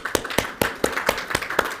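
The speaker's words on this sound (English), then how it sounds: "Round of applause" A small group claps at a business expo launch event in Mumbai. About eight separate, sharp claps fall in a loose, uneven rhythm, close and fairly clear, with no talking.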